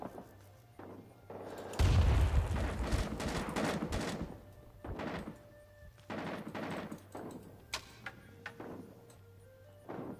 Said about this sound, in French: Ouh, la grenade.